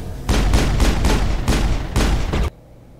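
Shotgun blasts in Mass Effect 1 combat, a loud run of about six heavy booming shots in quick succession, each with a short decaying tail, ending abruptly in near silence.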